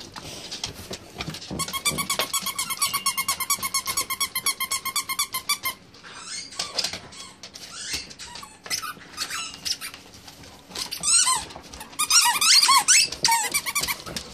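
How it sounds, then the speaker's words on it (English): A dog chews a squeaky toy, squeezing out rapid runs of sharp, close squeaks in quick bursts, with pauses of softer chewing and rustling between them. "You got your proper squeaky one."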